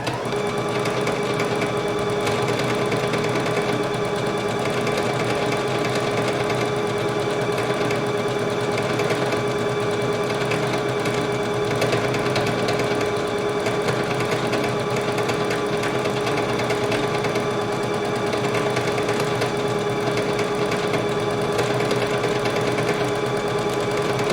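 A bernette Sew&go8 sewing machine stitching an embroidery pattern, running with a continuous fast mechanical whir and needle clatter at an even loud level for the whole stretch, with no talk.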